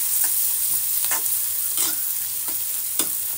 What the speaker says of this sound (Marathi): हे सगळं मी फुल फ्लेम वरती करते, याला आणखीन फ्राय करून घेते थोडंसं।